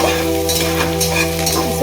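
Onions frying and being stirred in a pan while cooking village-style chicken sambar, a steady close sizzle with scraping stir strokes throughout, no talking.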